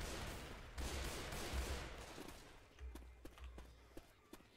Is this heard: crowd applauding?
no